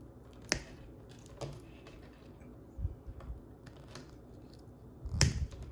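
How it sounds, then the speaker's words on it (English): Wire cutters snip frayed beaded wire strands for a bonsai tree's roots, giving a few sharp, close clicks spread apart, the loudest near the end, with no talk. "We're going to snip off this extra wire here."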